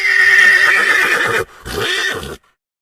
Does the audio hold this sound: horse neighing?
yes